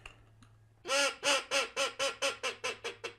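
A duck call imitates a teal hen: a series of about ten quick, loud, nasal quacks in a fast, slightly slowing cadence, close and alone after a faint lead-in.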